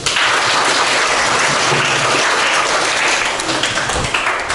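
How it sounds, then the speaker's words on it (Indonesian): Classroom applause from students in a teacher-training lesson: dense, steady clapping filling the whole stretch, loud and close. "Kasih tepuk tangan dulu."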